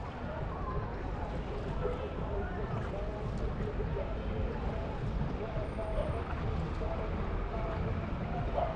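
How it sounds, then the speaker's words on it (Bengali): A boat travels along the Dawki River, its steady engine drone and water wash running continuously at close range, with voices talking over it. "আমরা যাচ্ছি নৌকা করে, নৌকো।"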